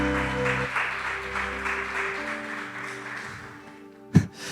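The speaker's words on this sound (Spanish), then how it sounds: "Denle un fuerte aplauso al Señor, por favor." A church congregation claps together over sustained organ-like musical tones, the applause steady and fairly loud before it thins out; a single sharp knock lands near the end.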